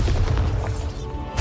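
A Bombarda blasting spell explodes in Hogwarts Legacy, a dense, continuous low booming rumble that stays loud for the whole short moment with no gaps.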